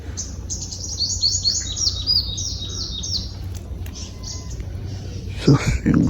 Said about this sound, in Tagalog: Ibon pala.